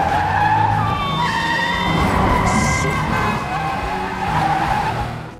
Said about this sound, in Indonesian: seorang pria bernama Abbas, warga negara Pakistan yang ramah namun berkendara ugal-ugalan.